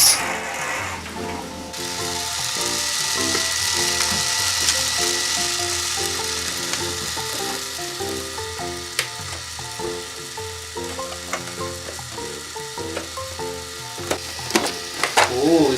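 A Casdon toy Dyson vacuum cleaner sucks up plastic beads, its whirring motor running under a rapid clattering rattle of beads tumbling through the mechanism, with sharper clicks near the end.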